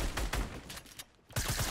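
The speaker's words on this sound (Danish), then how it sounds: "Fuck, nej, jeg kan skudde min shotgun" Shotgun blasts in a Fortnite squads match, a rapid run of loud, close booming shots, a brief lull, then another burst of firing, with no voices over it.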